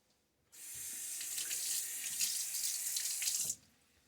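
Tap water runs steadily into a sink for about three seconds to rinse a brass Karve safety razor during a wet shave, starting and stopping abruptly, close and fairly loud with no talk.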